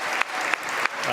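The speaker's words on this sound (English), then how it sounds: "And I think everybody can have an applause" Audience applause for the host Wynn Resorts at a Las Vegas freestyle chess Grand Slam event: a steady, dense clatter of many hands clapping, fairly close and even throughout the short burst.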